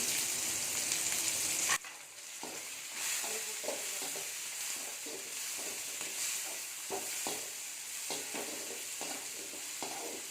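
Garlic cloves, cinnamon, star anise and cloves sauté in a pan for paneer butter masala, giving a steady hiss of frying with a sharp drop in sizzle partway through and repeated soft scraping stirs, close up and without talk.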